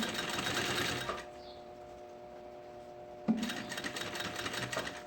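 A sewing machine stitches a backpack seam in a quick, steady mechanical whir, pauses briefly, then starts again with a sharp click.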